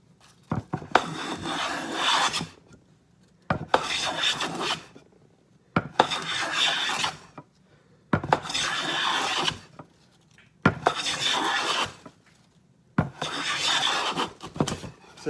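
A wood-bodied hand plane takes deliberately uneven shavings from a wooden board in six close, evenly spaced rasping strokes, each about two seconds long with short silent pauses between them.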